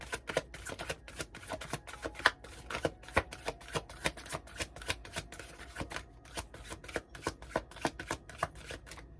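Tarot cards drawn and laid out on a table during a reading: a steady run of crisp, close card flicks and slaps, dozens of quick papery snaps in an uneven rhythm with no voice over them.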